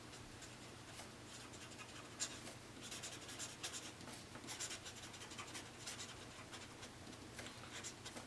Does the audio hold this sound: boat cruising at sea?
no